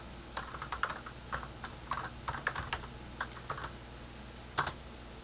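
Computer keyboard typing a console command, a quiet run of irregular key clicks with short pauses and a final cluster of taps.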